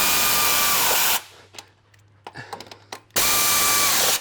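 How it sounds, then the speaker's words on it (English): A ratchet tightens mounting hardware on the differential brackets of a 2020 Ram 1500 during a 4-inch lift install, with two loud sustained whirring bursts at the start and end framing a quieter stretch of sharp clicks close by. "it's easy as over here just to use a ratchet, because you don't really have much room"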